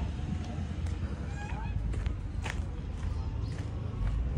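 Geese or ducks honk in short, repeated calls outdoors at a village haveli near a pond, heard over steady background noise with occasional footsteps.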